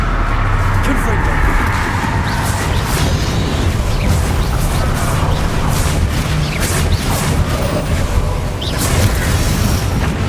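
Combat in Hogwarts Legacy brings a Confringo blasting spell explosion, heard as dense, continuous booming and crashing with rumbling layers and talk running through it.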